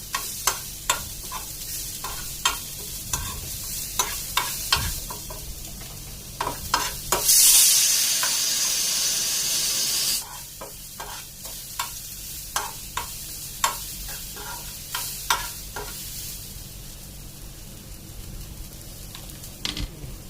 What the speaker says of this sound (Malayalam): ഇനി നന്നായിട്ട് ഇളക്കുക ചൂടാകുന്ന വരെ.